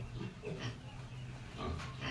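Native pigs raised for lechon, sold by live weight, grunt steadily at close range with a low, rough, continuous texture.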